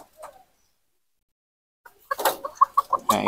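Native chickens on a farm cluck in a quick run of short, sharp calls close by after a near-silent stretch, with a brief faint sound at the start.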